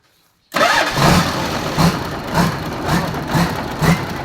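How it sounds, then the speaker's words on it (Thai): A turbocharged car engine starts abruptly after a moment of silence, then idles loudly up close with a rhythmic, pulsing rumble. "ฟังเสียงเทอโบหวานๆด้วย"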